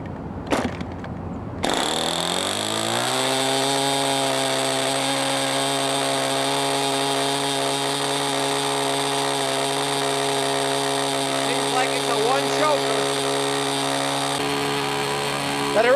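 A Windy U Master 804 motor spins an inner tip propeller, starting after a brief click and holding a steady, loud harmonic whine for over ten seconds, with a slight shift near the end.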